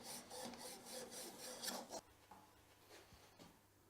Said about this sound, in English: remove the burr by rubbing it along a flat bench stone like that